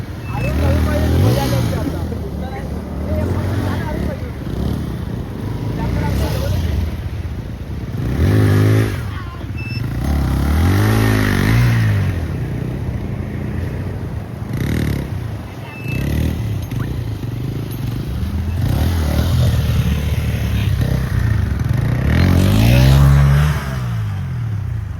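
A motorcycle rides along a road on a coastal road trip, its engine loud and close with repeated rises and falls in revving over constant wind rush, while a voice talks intermittently.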